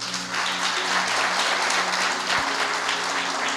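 A church congregation applauds together in a steady, sustained wash of clapping that fills the space, loud and continuous with no talking over it.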